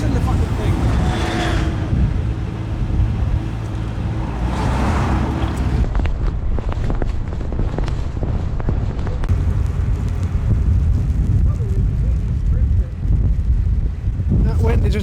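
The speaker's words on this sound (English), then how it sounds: "That wind is just blowing off the landscape, there's nothing to block it." Strong wind sweeping across an open hillside landscape with nothing to block it, a loud continuous roar buffeting the microphone with gusty surges, and people talking beneath it.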